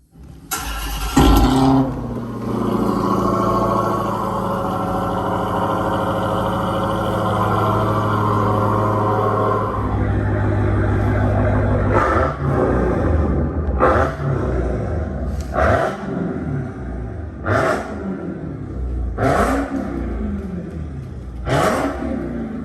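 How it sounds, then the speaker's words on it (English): Dodge Hellcat V8 engine sound played through the external Boombox speaker of a Tesla Model Y Performance: a startup roar settling into a deep rumbling idle, then a series of sharp revving blips at intervals, loud and close. "So let's go ahead and listen to this Hellcat Model Y performance."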